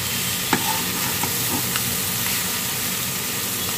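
Bitter gourd frying in oil with garlic and ground cumin in a pan, with a steady loud sizzle and occasional stirring scrapes and clinks up close.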